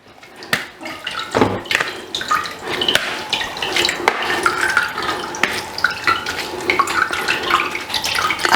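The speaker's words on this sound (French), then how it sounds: "J'ai mis de l'eau." Tap water pours steadily and fairly loudly into a container to thin ginger juice, a continuous splashing rush with a few drips and knocks at the start.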